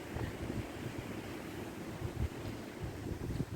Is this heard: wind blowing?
yes